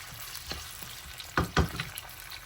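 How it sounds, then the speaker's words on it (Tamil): Chopped big onion sautéing in a pan for a sweet chili pepper egg stir-fry, a soft steady sizzle broken by a couple of louder scraping stirs near the middle. "இதோட ஒரு பெரிய வெங்காயம் அதையும் நாங்கள் சின்ன சின்னமாக வெட்டி நல்லா வதக்குவோம்."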